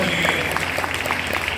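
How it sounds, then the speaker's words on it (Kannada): An indoor audience claps steadily in dense, continuous applause, fairly close and filling the short stretch without any talking. "ಹೊಡೀರಿ ಇನ್ನೊಂದು ಜೋರಾದ ಚಪ್ಪಾಳೆ ಭಗವಂತನಿಗೆ."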